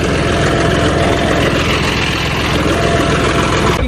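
A tractor engine running: a loud, close, continuous rumble with a steady idling throb that holds unchanged throughout.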